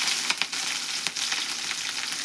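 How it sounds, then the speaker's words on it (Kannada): Chopped green chillies drop into hot oil already browning urad dal, setting off a loud, close crackling sizzle with sharp pops early on, then a steady fry. No one speaks. "ಈಗ ನಾನು ಹೆಚ್ಚಿಟ್ಟಿದ್ದ ಮೆಣಸಿನ್ಕಾಯಿ ಹಾಕೋತೀನಿ ನೋಡ್ರಿ."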